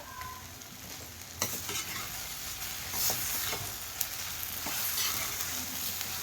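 Ghee sizzles in a pan for a bread masala, with a steady hiss broken by a few sharp spoon scrapes and taps as it is stirred, close and moderately loud, with no talking.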